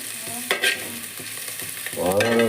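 Tomatoes and pirandai sauté in a pan, a soft sizzle broken by spoon scrapes and clinks, swelling into a louder crackle near the end.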